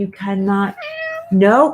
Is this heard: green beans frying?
no